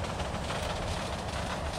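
Train rolling along rails in the Soviet-era city-building game Workers & Resources: Soviet Republic, a steady broadband rumble with faint clickety-clack running evenly through the whole stretch, fairly close and with no voices.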